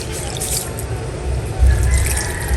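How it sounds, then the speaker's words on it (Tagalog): Nipa palm vinegar is poured over tilapia in a cooking pot, giving a close, steady splashing pour that thickens toward the end. "Lalagyan ko din po ito ng sukang sasa."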